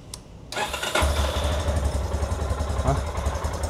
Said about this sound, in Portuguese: Bater na partida para vocês escutarem o barulhinho do motor.